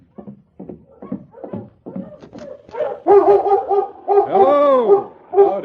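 A sled dog team in the Yukon barks, yips and whimpers close by as it stops outside a cabin. The short, sharp calls come in a rising, excited string with no one speaking over them.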